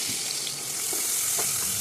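Onions go into hot oil already holding cardamom and cinnamon, bursting into a loud, steady sizzle and frying hiss that runs the whole way through, with a few soft stirring knocks from a bachelor's chicken curry cooked with new potatoes.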